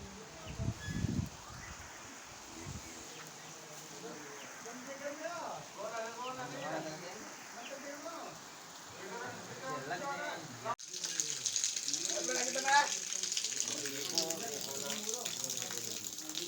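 Heavy rain pours outdoors as a steady broadband hiss, with a voice talking over it; the downpour swells noticeably louder and denser partway through.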